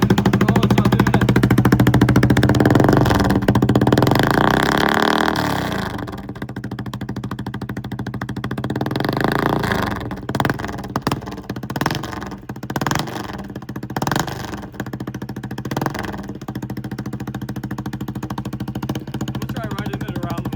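A Honda CRF110 dirt bike fitted with a sprinkler-tube exhaust runs loud and raspy, revving up and down early on, then idling with choppy, sputtering pops and crackles. No one speaks.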